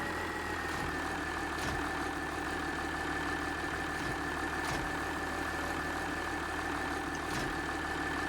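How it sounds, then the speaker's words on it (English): Tractor engine idling in Farming Simulator 19, a steady, even mechanical drone with a constant hum and faint periodic clicks throughout. "it's probably going to be the go-to tractor now"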